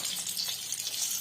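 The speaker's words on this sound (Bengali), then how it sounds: "এবার এগুলো আস্তে আস্তে বেলে এগুলো ভাজছি" Kochuri, small rolled dough rounds, frying in hot oil with a steady close hiss and crackling sizzle that stays even throughout.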